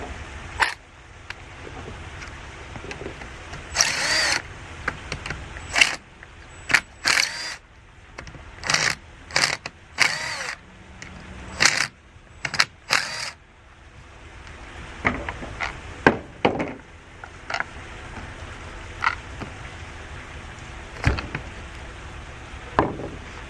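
Pool pump motor frame being unscrewed, a scattered series of brief metallic clicks and tool taps, close and moderately loud, with quieter handling noise between them and no talk.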